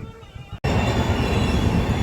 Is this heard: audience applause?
no